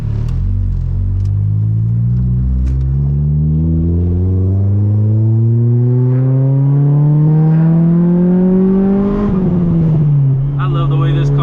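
A 1990s Honda Accord with an H22 engine pulls from close by, its pitch climbing steadily as it accelerates through a gear, then dropping at a shift and settling into a steady drone.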